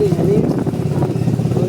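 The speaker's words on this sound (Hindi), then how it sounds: "अब बाइक लेके जाएंगे, चलो दिखाते हैं आपको।" A motorcycle is ridden, its engine a loud, steady rumble with a light rattle running underneath, while a voice talks over it.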